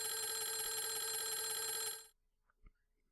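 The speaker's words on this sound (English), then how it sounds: "And there is still that telephone ringing in the foyer there." An old telephone rings in the foyer of a mansion in the Clock Tower video game, a bright, sustained ring that stops abruptly, followed by a near-silence broken by a single soft thud.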